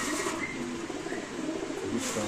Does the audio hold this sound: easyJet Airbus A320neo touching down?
no